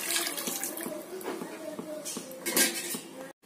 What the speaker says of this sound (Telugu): ఇప్పుడు ఇందులో 2 కప్పుల వాటర్ ని యాడ్ చేసుకోవాలి.